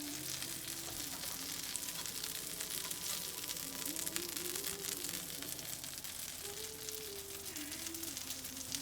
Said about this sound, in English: Butter sizzling, the juices sizzling.